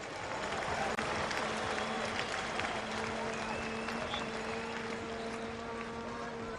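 A crowd at a Crankworx Rotorua slopestyle mountain bike event applauds and cheers for rider Cam Zink, a steady wash of distant clapping with a continuous hum running underneath.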